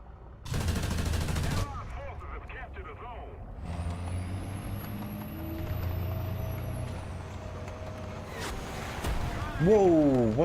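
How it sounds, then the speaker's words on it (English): A missile in the War Thunder video game streaks past with a long rising whoosh and sharp whistling tones, heard among loud gunfire bursts and heavy vehicle rumble, with a voice talking over parts of it. "That was a missile."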